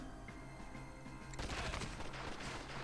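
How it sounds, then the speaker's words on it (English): Machine gun fire in the Stalingrad war game Lock 'n Load: Heroes of Stalingrad. Low mechanical hum, then a sudden sustained burst of rapid gunfire, loud and dense, continuing to the end. "I'm going to take this guy and his machine gun."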